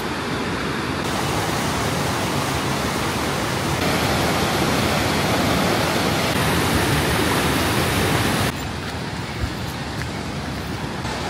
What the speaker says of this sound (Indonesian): Namanya Rio Zezere. Rio itu artinya sungai. Ya, kaskad.